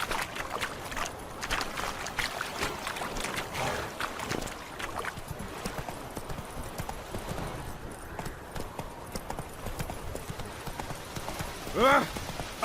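A horse gallops in The Witcher 3 video game, with rapid, rhythmic clip-clop hoofbeats running continuously under game voices, and a brief whinny near the end.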